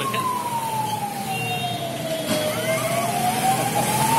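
A fire engine siren wails steadily at a distance, its pitch slowly dipping and rising over low traffic rumble.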